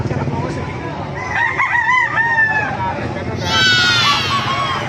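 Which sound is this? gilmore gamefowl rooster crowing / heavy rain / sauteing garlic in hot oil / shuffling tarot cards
gilmore gamefowl rooster crowing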